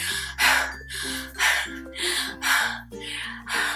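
A voice imitates heavy, rhythmic breathing: loud gasping breaths repeating about every half second, close to the mic with no other sound.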